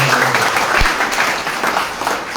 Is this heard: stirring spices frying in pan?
no